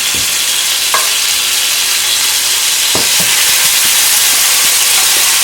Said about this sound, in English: so you hear that sizzle? That's what you want to hear to make sure that the oil is hot